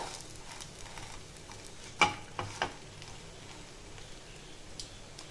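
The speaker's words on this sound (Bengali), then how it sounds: "এইভাবে আমি সবগুলোই ভেজে নেবো" Patishapta pitha fries in a pan with a faint, steady sizzle, broken by a few soft scrapes and taps of a spatula in the middle.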